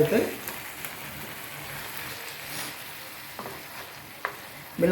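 Potatoes frying in a pan for tomato chutney, a steady soft sizzle broken by occasional scrapes and taps of stirring, fairly quiet and close.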